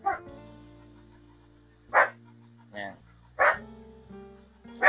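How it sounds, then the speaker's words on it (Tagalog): A dog barks five times in separate sharp yaps spaced a second or so apart, close by, while someone talks quietly in between. "Tumatahol na yung aso ko, no?"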